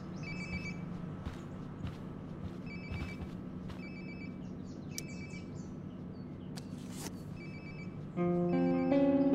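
A phone ringing in the video game Life is Strange: Before the Storm, with repeated short electronic ring bursts over a steady room hum and chirpy birdsong, and a louder tonal ring swelling near the end.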